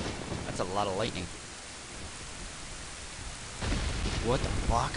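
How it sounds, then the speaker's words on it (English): Thunderstorm in the Zelda Ocarina of Time video game: steady rain hiss with low thunder rumble, while a voice talks briefly at the start and again near the end. "Oh, that's a lot of lightning."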